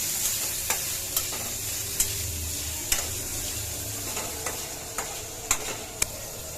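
Dried lutka fish sizzling and frying in a pan, a steady close crackle with scattered sharp ticks and pops of stirring throughout, no talking.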